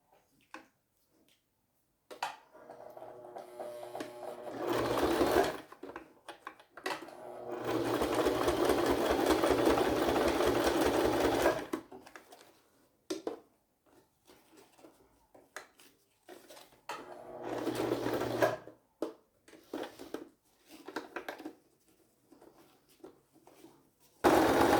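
Close, loud bursts of a sewing machine topstitching a 3D zippered pouch on its longest stitch length, with quiet handling and fabric rustle in the gaps between runs.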